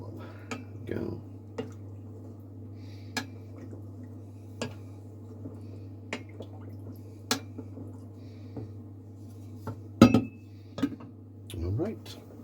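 A spoon stirs bean and bacon soup in a metal pot, producing sparse clinks and taps against the pot at irregular intervals over a steady low hum, with quiet talk now and then.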